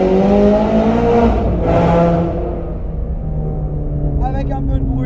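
A loud Ferrari sports car engine revving hard, rising and falling in pitch, then settling into a lower rumble as a voice speaks briefly near the end.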